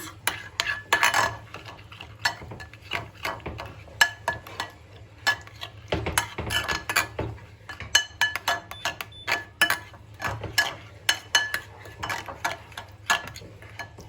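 A spoon stirs a kebab meat mixture with oil and spices in a bowl, making a continuous run of close clinks, taps and wet scraping at an uneven, busy rhythm.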